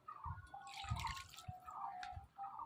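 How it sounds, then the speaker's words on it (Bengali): Leftover tomato-boiling water poured into a Bengali village-style egg curry, a close, uneven splashing and trickling that rises and falls in a few bursts before tapering off. "এবারে যে বাকি টমেটো সিদ্ধ জলটা ছিল ওইটা দিয়ে দেবো"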